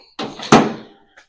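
Tool drawer in a garage during a 1978 Nova project build, two quick wooden-metal knocks and slides a third of a second apart, the second louder, followed by a faint small tap, close and without speech.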